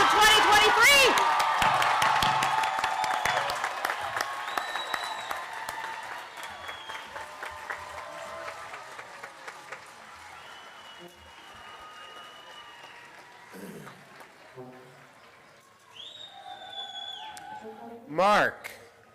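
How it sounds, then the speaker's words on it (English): Audience applause at a 2023 university commencement ceremony, loud and dense at first then thinning out, with a few cheers and whoops rising near the end and voices in the crowd. "Let's now recognize and applaud these graduates one more time."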